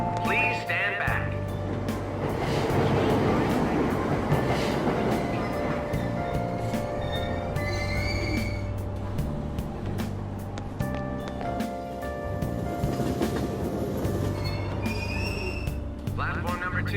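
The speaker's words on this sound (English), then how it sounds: "Train doors are now closing." An in-game subway train in Persona 5 Royal at Aoyama Ichome station closes its doors and pulls away with a steady rolling rumble and brief tonal chimes, while a voice talks over it throughout.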